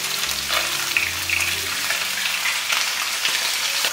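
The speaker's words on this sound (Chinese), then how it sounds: "爆过姜葱蒜的油再来煎鱼，它也不会粘锅" Sea fish frying in a very hot pan in oil already infused with ginger, scallion and garlic: a steady, dense hiss of sizzling oil close up, with a low hum underneath.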